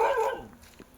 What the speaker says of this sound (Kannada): ನಾಯಿ ಬೊಗಳುತ್ತಿದ್ದಾವೆ